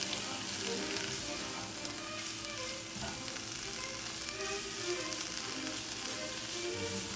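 Microwave-baked purple potatoes and garlic sizzle steadily in a hot pan, with a constant close crackle of frying. Faint scrapes and clinks from stirring break through now and then.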